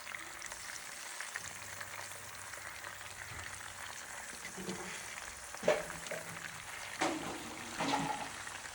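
A second batch of fish for fish biryani frying in hot oil, a constant close sizzle with stirring clatter and a few sharper pops and clanks of a utensil, no talking.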